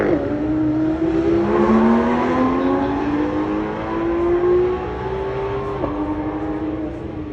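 A Porsche 911 Turbo S engine drones steadily from inside the moving car, its tone rising smoothly under acceleration then dropping and climbing again with a gear change, loud and continuous without talk.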